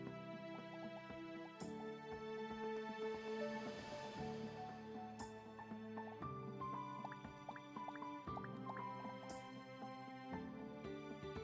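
Crashing Waves, a water spell effect in the farming sim video game Seeds of Calamity, plays as quiet, bright, drippy, bubbling watery tones over a steady tonal backdrop, with several distinct splash onsets.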